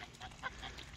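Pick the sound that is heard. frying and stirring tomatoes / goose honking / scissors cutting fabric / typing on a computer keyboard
goose honking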